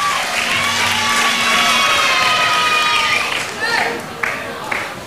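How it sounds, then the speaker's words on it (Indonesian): A television singing-contest audience for a dangdut-style performance cheers, shouts and claps loudly and continuously, with children's voices in the crowd; the noise thins toward the end, leaving a few sharp claps. "Penonton, tepuk tangan dulu."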